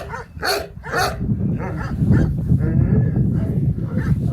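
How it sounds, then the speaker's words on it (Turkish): Several Gürün dogs barking outdoors in winter, fairly near and loud, overlapping with one another against a rumbling outdoor background. "Köpekler sesleriyle benim için daha da bir güzel oluyor."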